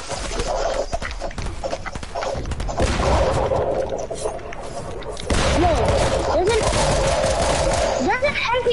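Video game gunfire from a computer-controlled enemy, sharp shots scattered through a busy mix under ongoing player chatter and other game noise, moderately loud but hard to separate cleanly.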